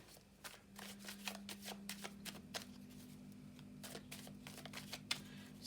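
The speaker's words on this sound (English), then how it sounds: "Let's just have a little shuffle and see what we've got" Rapid papery flicks and riffles of tarot cards being shuffled close by, in quick bursts over a steady low hum.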